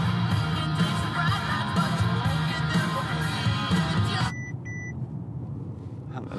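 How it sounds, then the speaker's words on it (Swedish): A car turns past nearby, its engine and road rumble loud at first and then cutting off abruptly, followed by a couple of brief beeps and then quieter background. "Det var en bil som svängde."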